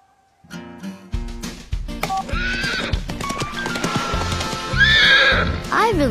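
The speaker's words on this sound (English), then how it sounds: "Help me call the horse." A cartoon horse in Bubble Guppies gives loud neighs and whinnies, joined by clip-clopping hooves and bright music, with voices around it.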